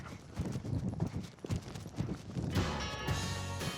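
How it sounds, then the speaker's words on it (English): Horse hooves strike the arena ground in a rapid rhythmic clip-clop as a horse canters toward and over a show-jumping fence, with music swelling in toward the end. "The horse came in on his left lead, he stayed on his left lead, and he landed on his left lead."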